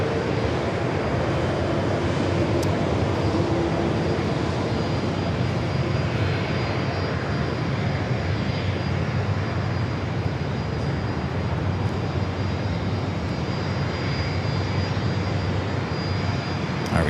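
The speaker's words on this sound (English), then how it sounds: "the 777 at 300ER, starting its taxi, heading out here for a departure on runway 27." A British Airways Boeing 777-300ER taxis for departure at San Diego airport, a loud steady jet-engine roar with a broad rushing hum that holds level throughout.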